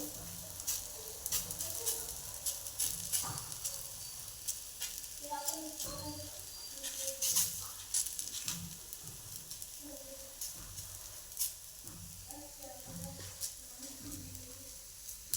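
Cabbage paratha sizzles steadily on a hot pan with oil, a continuous close frying hiss with scattered crackles and soft stirring or pressing sounds throughout.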